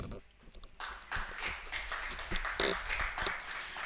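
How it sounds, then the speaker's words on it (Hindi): An audience at a lecture-series event applauds a newspaper chief editor, scattered claps building into a fuller burst that stays moderately loud and uneven, with a voice faintly heard. "तो जोरदार तालियां माननीय सुरेश जी के लिए"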